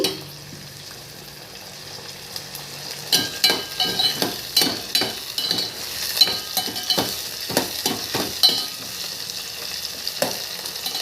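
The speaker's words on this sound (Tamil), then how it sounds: "கொஞ்சம் வேகட்டும் எண்ணெயிலே கொஞ்சம் மிதமான தீயிலே வச்சு வேக விடுங்க இந்த கண்டங்கத்திரிக்காய்" Thorny nightshade fries in oil over a medium flame, sizzling quietly at first, then a run of rhythmic scraping stirs starts partway in and continues, close, with no talking.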